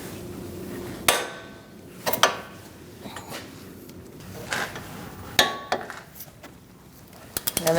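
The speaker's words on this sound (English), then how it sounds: "We're going to torque this to 111 foot-pounds." Metallic clicks and clanks from a torque wrench tightening the wheel hub bolt on a 2016–2019 Chevrolet Cruze during a front wheel bearing and hub replacement, with a few sharp isolated hits over a low background hum.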